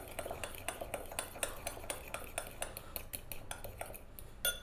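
Lemon mayo sauce with black pepper being stirred briskly in a bowl, a rapid run of close, light clinks and scrapes of a utensil against the dish.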